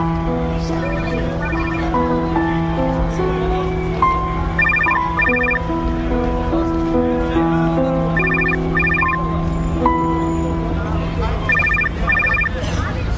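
A mobile phone rings with a repeating electronic ringtone melody in short bursts over background music and ambient noise; a voice talks briefly alongside it.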